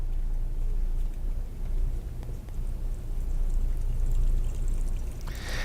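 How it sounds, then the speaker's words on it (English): Hot water pours steadily into a cookware pot, a continuous close splashing stream lasting several seconds with a slight change in tone near the end. "I'm going to pour some hot water in this one."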